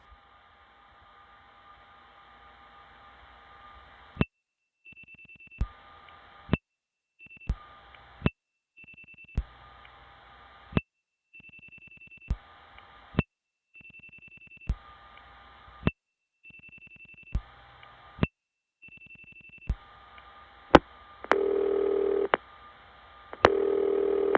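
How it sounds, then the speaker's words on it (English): Bursts of a 2600 Hz tone pulse out a phone number through a 1970s Augusta step-by-step tandem exchange, each cluster of short beeps separated by silent gaps, ending with louder line tones and a handshake-like burst. "the dial pulses will be used to make the bursts of 2600 go down the line, and I'll be able to dial phone numbers"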